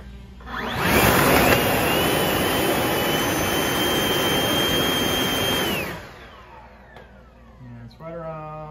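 A Hart 40V cordless leaf blower roars steadily as it blows air at a wind speed meter, a loud sustained rush with a high whine that holds for about five seconds and then cuts off, after which a voice speaks.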